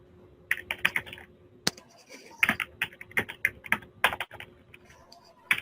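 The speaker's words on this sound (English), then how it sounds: "You're typing." Close computer-keyboard typing during an online session: irregular bursts of crisp key clicks with short pauses between runs, with a faint voice in the background.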